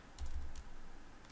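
A quick burst of keystrokes on a computer keyboard entering a Google search, soft and close, with a few light clicks and no talking.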